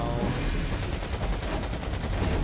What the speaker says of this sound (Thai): เรายิงอย่างเดียวครับล่วงไม่ล่วงไม่สน ยิงอย่างเดียวเลย